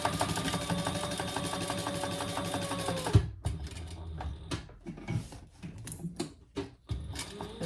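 Sewing machine stitching the sides and bottom of a waxed canvas bag, a steady whirring run for about three seconds, then quieter, broken handling and short stitching bursts.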